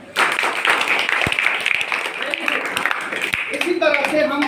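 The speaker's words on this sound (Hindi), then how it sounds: "ताली बजाओ।" Children clapping their hands in a classroom during a parent-teacher meeting, a dense run of claps over several seconds mixed with chatter and a voice in the background.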